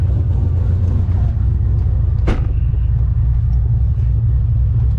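A cammed C6 Corvette with an LS3 V8 idles in a steady, loud, low rumble that holds level throughout, heard close up, with one brief sharp sound partway through.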